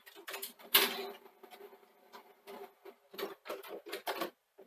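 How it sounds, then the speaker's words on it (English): A 1998 Sony SL-F205 HiBand Betamax VCR ejects a tape, giving a series of quiet mechanical clicks, whirs and clunks in short bursts, close up. "So let's eject the tape."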